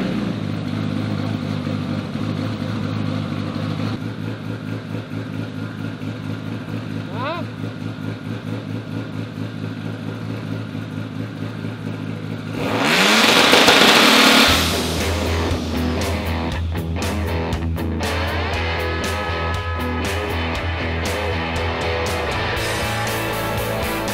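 A 2013 Toyota 86 fitted with a 2JZ engine idles with a low, lumpy rumble, then a loud, sharp rev swells and drops midway before settling back into a steady idle.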